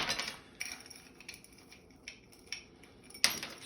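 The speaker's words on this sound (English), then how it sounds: "we're going to top with ice. I've got crushed ice here" Crushed ice is added to a mojito glass, giving a quiet series of light clinks and rattles, several small scattered impacts with a sharper glassy chink near the end, no talk.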